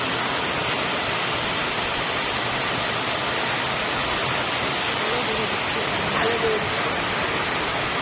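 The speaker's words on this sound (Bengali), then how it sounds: "বৃষ্টি দেখো," Continuous rain pours down in an even, broad hiss, with a faint voice briefly audible under it.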